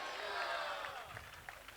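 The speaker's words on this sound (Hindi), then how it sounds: "जोरदार तालियां बजाइएगा" A church congregation at a sermon applauds loudly, a dense wash of clapping that starts strong and thins out over a couple of seconds.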